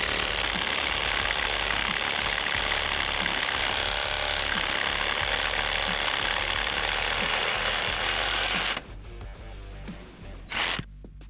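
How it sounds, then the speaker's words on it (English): A reciprocating saw rips through a 6x6 wooden post in a garage build with a loud, fast, buzzing chatter that runs steadily and close. It stops near the end, leaving a few brief knocks. "Skill saw doesn't cut all the way through the 6x6 post, so we have to finish it with the sawzall."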